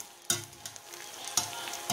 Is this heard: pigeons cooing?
no